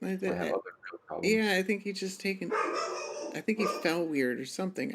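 A dog barks and yips in the background beneath almost continuous close male speech during a livestream, the barks partly masked by the talking.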